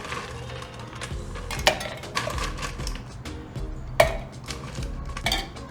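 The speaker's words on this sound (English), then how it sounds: "We're gonna add ice into our stirring vessel." Ice goes into a cocktail stirring vessel with a few separate glassy clinks and clatters, spaced a second or two apart over a quiet background.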